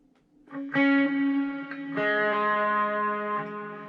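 Electric guitar playing a song part, barred chords with a pinky and ring finger, run through distortion, chorus and echo effects; a few sustained, shimmering strums ring out alone, close and steady.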